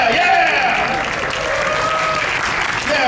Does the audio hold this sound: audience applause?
yes